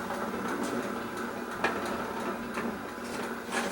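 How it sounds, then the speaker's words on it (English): A Hurom Elite juicer works through cucumbers with a steady, close mechanical whir and scattered crunching clicks, and no one speaks. "So let's start juicing with the Hurom Elite."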